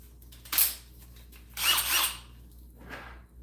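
A power drill fitted with a 1/4-inch bit being tested, three short whirring bursts spaced apart, fairly close in a quiet workshop setting.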